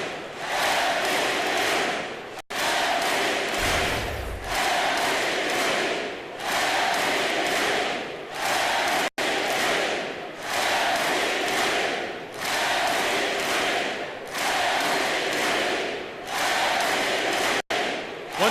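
Video game crowd noise from an NBA 2K18 basketball arena during a playoff game, a dense continuous roar of cheering fans that swells and dips in waves over about eighteen seconds, with a brief low thump partway through.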